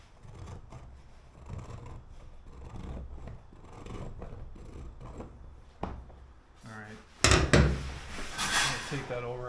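Cutting and trimming windshield material on a 1957 Chevy in a workshop, with scattered clicks and scraping snips, then a louder rough rustle near the end, while someone talks.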